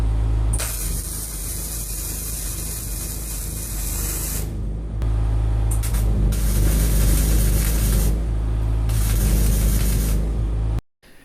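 Aerosol Cold-Gel sprays in several long hissing bursts onto ground-flat welds holding a door frame to a steel shipping container wall, close and loud, with short pauses between bursts over a steady low background rumble.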